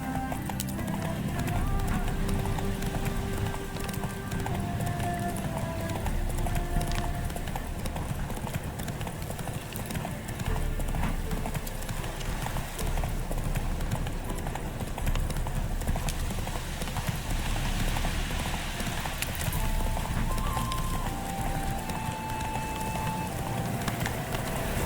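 Roach the horse gallops in The Witcher 3, hooves clip-clopping in a steady fast rhythm throughout, close and loud over a dense layer of game music and ambience, with an occasional whinny.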